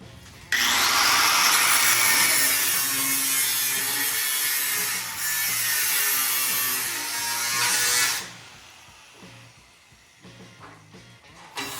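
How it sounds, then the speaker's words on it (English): A power saw cuts a small piece out of a truck's metal radiator support, producing a loud, close, continuous buzzing rasp that runs for about eight seconds and then stops, followed by quieter clatter and handling noises. "I want to cut this little piece out here so that the Dodge radiator can sit nice"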